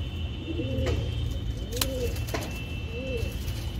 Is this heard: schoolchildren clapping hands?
no